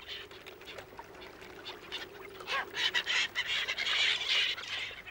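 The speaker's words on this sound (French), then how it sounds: "voilà le fuligule morillon, au bec bleu et à la tête joliment décorée d'un œil d'or" Tufted ducks call repeatedly in a series of nasal, rasping notes that grow louder and denser toward the end, over a quiet outdoor background.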